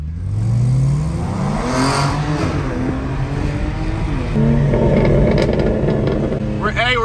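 Kia Stinger and BMW M3 G80 launching together from a dig, their engines roaring loudly and climbing steadily in pitch, with a shift near the middle before pulling hard again to the end.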